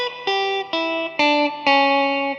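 Electric guitar with light distortion plays a phrase of a song as five distinct picked notes in a steady, even rhythm, each one ringing briefly before the next, clear and close with no voices.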